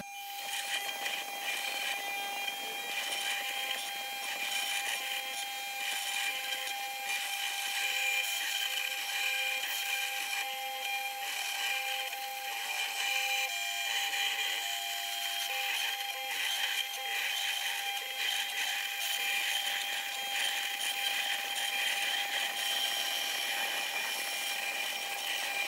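A DIY CNC mill built from scrap runs its spindle through a cutting pass, giving a steady, continuous high-pitched whine with a constant tone and shifting grinding texture for the whole stretch, loud and without speech.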